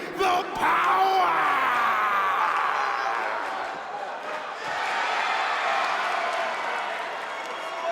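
A WWE 2K19 arena crowd roars and cheers loudly at a tag team entrance. The noise surges near the start, dips in the middle and then builds again, with scattered yells throughout.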